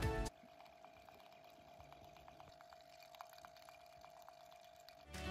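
Instant Pot electric milk frother whisking and warming milk in its pitcher: a quiet, steady motor whir holds a constant hum, with faint soft ticking from the spinning whisk and no talking.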